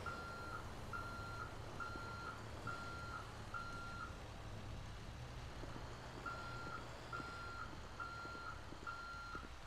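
Fire engine reversing in the FiveM game, sending out a regular series of evenly spaced high beeps at a moderate distance over a low engine rumble, pausing briefly before the beeping resumes, with no talking.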